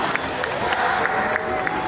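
Crowd applause mixed with a busy baseball stadium murmur and scattered cheering, with a voice carrying over the din.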